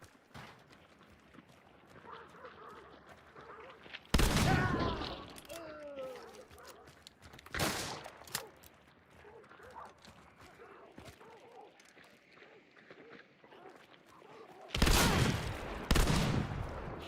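Gunfire erupts in a video game while shooting a grunt, with three loud bursts of rapid shots separated by quieter stretches of game sounds and faint voice activity.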